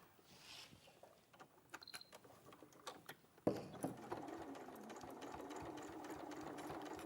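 A domestic sewing machine stitches around a quilt, opening with scattered clicks and handling taps, then settling into a steady, fast mechanical whirr that runs evenly to the end.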